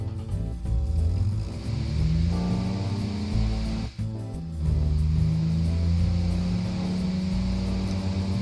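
Turbocharged 520-horsepower heavy-duty 1980s pickup engine in BeamNG, idling low then revving steadily with a brief cut in the middle, a loud continuous close drone with no talking.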